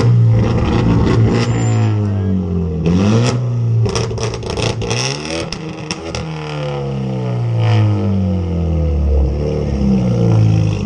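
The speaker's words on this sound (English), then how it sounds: "Right now, having a rev battle." Several cars, including a Lexus IS300 and a Mitsubishi Evo, rev their engines hard in turn during a rev battle at a San Diego car meet, loud rising and falling engine roars close by with crowd noise.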